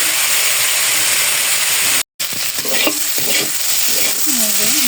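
Food stir-fried in a pan sizzles loudly and steadily, with scraping stirs and hissing steam, broken by a brief cut, and some faint voice-like sounds in the latter half.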